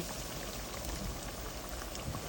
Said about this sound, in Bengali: এই যে এখন ভেজে নিচ্ছি পেঁয়াজু